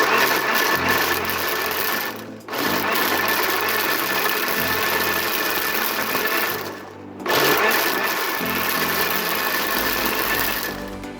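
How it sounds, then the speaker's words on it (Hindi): A blender whirs loudly and steadily while blending falsa berries with water, motor droning with two brief dips where it cuts out before spinning back up. No voices. "मैंने इसके अंदर पानी डाला है तो ये अच्छी तरह से ब्लेंड हो रहा है"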